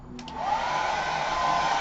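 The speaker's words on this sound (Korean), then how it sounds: "이거 드라이기 일반 가정용 드라이기입니다." Household hair dryer blowing hot air, starting up and settling into a steady, close whooshing roar with a faint tonal whine, preceded by a couple of soft clicks.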